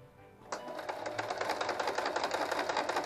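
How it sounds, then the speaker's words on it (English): A sewing machine stitching trim onto a fabric placemat starts up after a quiet half second, then runs as a fast, steady, close mechanical chatter with no pauses and no talking. "And now we're sewing on the first border that you placed down."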